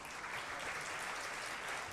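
A crowd claps in a dense, continuous patter of applause, steady and fairly distant, greeting a guest introduced on stage as Pakistan's first woman truck driver.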